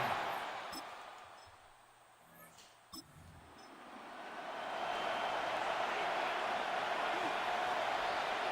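A stadium crowd in the American football video game Madden 26 swells from a low murmur into a steady, loud roar, with a commentator's voice faintly over the top early on.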